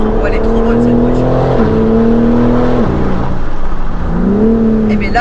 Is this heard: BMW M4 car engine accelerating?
yes